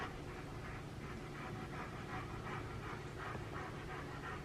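Close, fast panting from a dog, a regular rhythm of breathy huffs about three per second continuing throughout.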